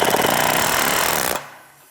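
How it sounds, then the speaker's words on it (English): An air hammer pounds a stuck part on a Bobcat during service, a loud rapid continuous hammering for over a second that stops abruptly and leaves a fading ring. "try to nail it down with the air hammer"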